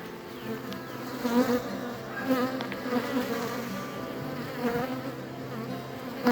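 Honey bees buzz continuously up close at a hive, a dense swarming drone with individual bees swelling louder as they pass near.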